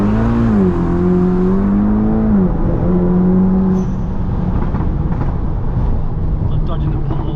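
Inside a 400bhp VW Scirocco R, the engine revs hard under acceleration, its tone climbing and then holding loud and strong. It eases into a lower, steadier drone with voices in the cabin.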